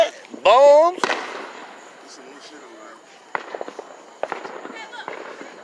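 Fireworks go off outdoors at a backyard family show, with a loud sharp bang near the start and several fainter pops and crackles afterward, while people shout and talk throughout.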